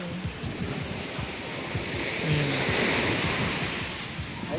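Waves wash steadily onto the front beach at Calatagan, Batangas, a continuous loud surf roar with wind buffeting the microphone and no talk.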